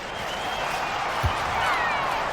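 Home crowd in a 2K college basketball game, Louisville at Missouri, applauding steadily as a broad, continuous wash of clapping and cheering that stays fairly loud for the whole stretch.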